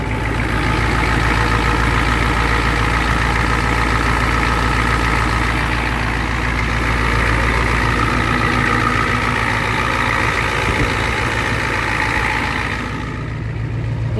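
A Ford F250 truck with a 7.3 IDI diesel engine, started after sitting for a month, idles steadily nearby with a deep, continuous rumble and a faint change near the end.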